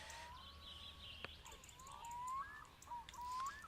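Birds call in the game My Summer Car, a few faint rising and sliding whistled notes over a low steady ambient hum, fairly distant, with no voices.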